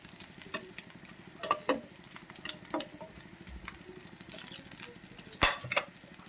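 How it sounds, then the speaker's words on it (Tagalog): Chicken bola bola fries in a pan, giving a faint, steady sizzle with scattered soft pops and crackles. The sound is quiet and close, with no talking. "Ayan, pinirito ko muna siya."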